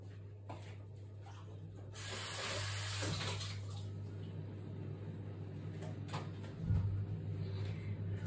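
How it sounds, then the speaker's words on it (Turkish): Hands being washed under a running tap, a steady broadband rush of water flowing for several seconds with a brief louder splash near the end, close and alone without talk. "Ellerimi yıkayayım, hemen geliyorum."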